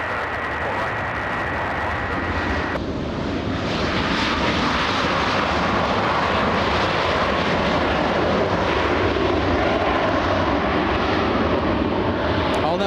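An airliner roars in to land at LAX, a loud sustained engine rumble and whine close by that swells and holds across the whole stretch, with a faint radio voice in the background.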